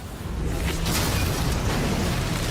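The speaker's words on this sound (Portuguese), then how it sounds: "Tiros de metralhadora." Machine-gun fire in a dramatic TV scene, heard as a dense, loud wash of blasts with a few sharper cracks standing out over a continuous rumble.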